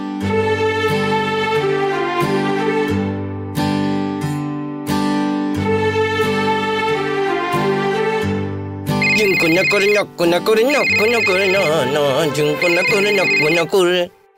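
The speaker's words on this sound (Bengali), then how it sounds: "এখন আবার কে ফোন করলো?" A mobile phone ringtone plays a repeating melodic tune, loud and close, then switches to a busier warbling electronic pattern until it cuts off.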